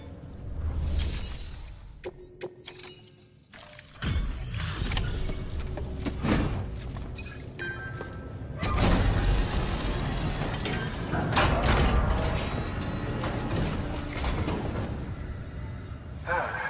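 A Chiral printer being repaired in the video game Death Stranding: repeated mechanical clanks, ratcheting clicks and grinding gear-like movements, loud and close, with several sharp impacts over a dense mechanical bed.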